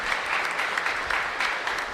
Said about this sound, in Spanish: Un fuerte aplauso para Dalma también.